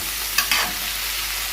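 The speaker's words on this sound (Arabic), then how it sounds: "وهنقلبهم بقى كويس كده مع بعض تقلبتين 3 كده" Carrots, peppers and tomatoes stirred together in a pan, a steady soft sizzle broken by a few brief scraping turns of the spoon.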